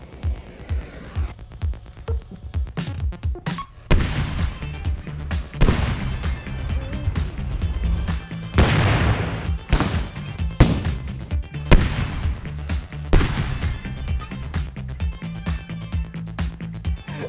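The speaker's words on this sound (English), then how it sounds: "what we're gonna do is try to blow it in half with a huge firecracker" A huge firecracker blasts apart a clothes dryer in a backyard, heard as a string of loud, sharp explosive bangs and thumps with rumbling decay across the clip, and no talking.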